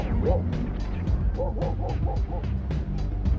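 A police drug-sniffing dog gives a run of short barks and yips during a roadside vehicle search for drugs, close and fairly loud over low rumble and voices talking.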